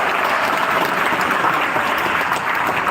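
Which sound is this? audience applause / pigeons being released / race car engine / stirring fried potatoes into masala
audience applause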